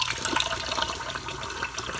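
Steady rush of running water, a continuous hiss and splash with no talking.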